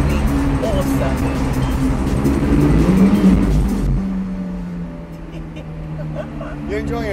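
McLaren 675LT engine on the Monaco Formula 1 street circuit, a loud sustained drone with rising tones, heard from inside the car, easing to a steadier lower note partway through.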